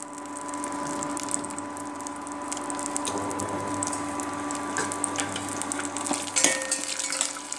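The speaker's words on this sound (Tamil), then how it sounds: "கொஞ்சம் எண்ணெயில் இந்த பொருட்கள் வந்து பொரிஞ்சி வரணும்." Whole spices, bay leaf and cinnamon, frying in a little oil for biryani: a continuous soft sizzle and patter with a faint steady hum under it, brief louder crackles near the end, no talking.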